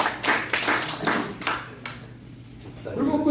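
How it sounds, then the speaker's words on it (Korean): Audience clapping at a weekly meeting of a national security civic group, a handful of loud, distinct claps in an uneven rhythm that fade away, with talking returning near the end. "박수 한번 칩시다"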